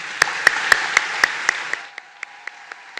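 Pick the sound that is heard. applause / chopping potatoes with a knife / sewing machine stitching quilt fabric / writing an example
applause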